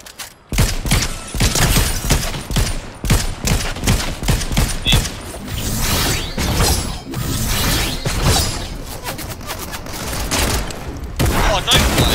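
Rapid gunfire from a Fortnite match in zero-build ranked mode, with dense bursts of shots and mechanical clatter running loud and continuous throughout, a voice briefly heard among the shooting.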